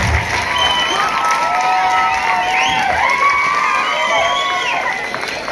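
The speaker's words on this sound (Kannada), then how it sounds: "ಚಪ್ಪಾಳೆಯನ್ನು ಜೋರಾಗಿ ತಟ್ಟಿ" A school crowd at a Republic Day celebration cheers and shouts with some clapping, a dense, loud, sustained wash of many voices throughout.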